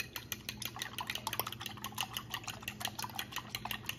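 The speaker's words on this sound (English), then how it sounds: "Break your yolks and then beat your eggs here so they're ready to go when they go into the pan here." Eggs beaten with milk in a bowl for a pancetta breakfast burrito, a quiet, steady run of rapid whisk or fork taps clicking against the bowl, close and alone.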